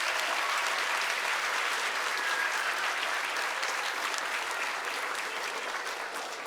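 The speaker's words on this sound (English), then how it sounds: "Let's give them another round of applause." Steady applause from an audience cheering kindergarten musical performers at an evening school show, a dense continuous clapping that holds evenly throughout and fades slightly near the end.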